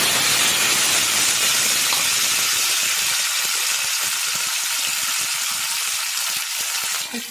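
Raw green tomatoes hit hot mustard oil tempered with a dried red chili and nigella seeds, bursting into a loud, dense hiss that slowly settles into a steady crackling sizzle.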